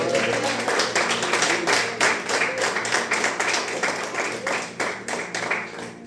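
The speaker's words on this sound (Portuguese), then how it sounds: "Aplauda o Senhor Jesus." A church congregation claps loudly and continuously, with dense overlapping hand claps growing into a steady rhythmic beat.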